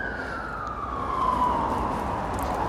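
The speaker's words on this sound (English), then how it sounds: "Apologies for the noise of sirens in the background." Emergency vehicle siren wailing in the distance behind a UK garden, a single falling tone over steady outdoor background noise, with no talk.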